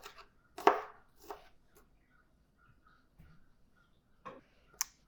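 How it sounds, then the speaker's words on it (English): A knife chops onion on a cutting board for a seafood salad, a few sharp, separated knocks with long quiet gaps between them, close and fairly soft, with no talking. "so we cut up the onion"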